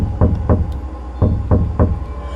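Slow, persistent knocking on a house's back door: a pair of knuckle raps, a pause, then three more evenly spaced raps. Close and distinct, with no voices.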